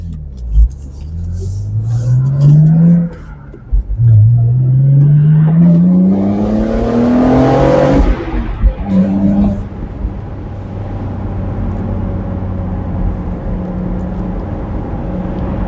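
A BMW Z4 E89 30i's engine climbs through rising revs while driving, loud and close, with clear upshift breaks before settling into a steady cruising drone.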